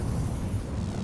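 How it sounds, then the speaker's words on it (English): Explosions in the Halo 2 video game, heard as a continuous low, rumbling blast with a heavy booming body and no clear separate hits, loud and close throughout. "These are exploding."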